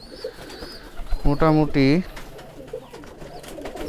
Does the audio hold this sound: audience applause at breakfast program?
no